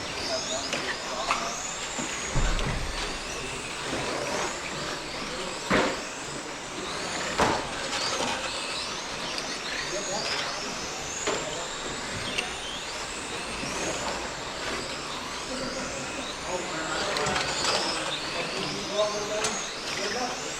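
Buzzing, whining small motors of XPRESS XQ11 radio-controlled touring cars rising and falling as they race past on an indoor carpet track, with a commentator talking over the steady mechanical drone.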